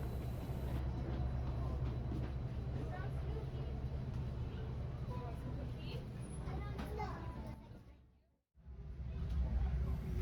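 Metra's holiday passenger train rumbles steadily from on board, with low rolling rail noise, murmuring passengers and children's voices throughout, briefly cut to near silence before the rumble returns.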